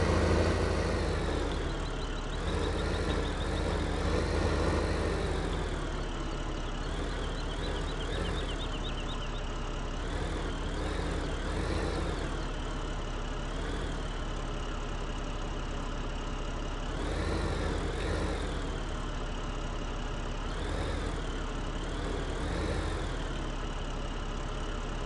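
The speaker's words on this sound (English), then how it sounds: "This tractor is really weird. Let me back it up." A tractor engine in the Farming Simulator video game drones steadily and close for the whole stretch, with a low idling rumble that rises and falls slightly as the machine backs up.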